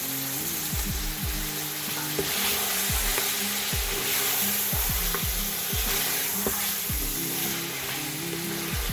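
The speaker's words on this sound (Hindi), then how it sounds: "ये गोश्त हमारा भुन रहा है। अब मैं इसके अंदर डाल रही हूँ अपना कुटा हुआ लहसुन और अदरक" Mutton frying in a pot with crushed garlic and ginger, a steady close sizzle broken by repeated scraping strokes of a stirring spoon against the pot.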